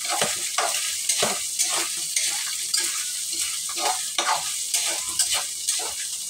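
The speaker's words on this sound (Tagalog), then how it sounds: "Igisa natin talaga tong hotdog." Sliced hotdog sautéing with browned ground meat in a pan for spaghetti sauce, a steady close sizzle with regular scraping stirs of a utensil, no talk.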